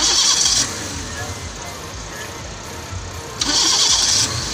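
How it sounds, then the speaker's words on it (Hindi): A Suzuki Cultus automatic car at a Sunday car bazaar in Karachi has its engine cranked and started, with bursts at the start and end around a steadier running sound. Outdoor crowd noise sits underneath. "स्टार्ट हो रही है गाड़ी।"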